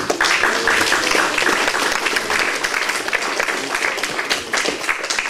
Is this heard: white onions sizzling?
no